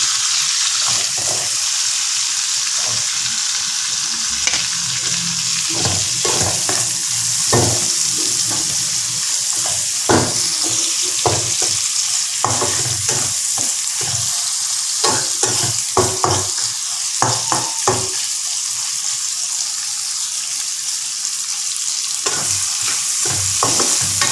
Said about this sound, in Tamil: இப்போ இதை எண்ணெயில் இந்த வெங்காயத்தை போடு